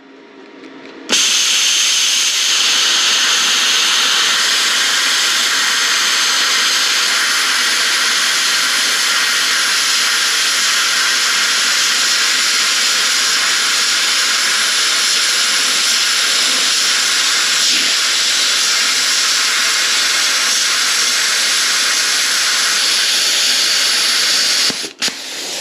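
A BESTARC BTC500XP plasma cutter slices half-inch steel plate at 50 amps, a loud, steady roaring hiss that starts abruptly and holds unbroken for over twenty seconds before cutting off.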